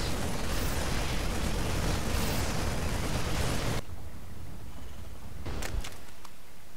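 A Zerg hatchery in StarCraft 2 collapses under a Terran bio-and-medevac drop: a loud, continuous rumbling blast of explosions for several seconds that cuts off abruptly, followed by quieter ambient noise with a few brief crackling pops.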